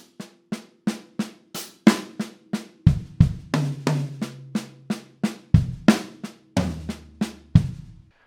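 A linear triplet fill moves around a drum kit, with sharp snare and tom hits mixed with deep kick thumps in a steady rapid rhythm, some toms ringing low, played alone and close.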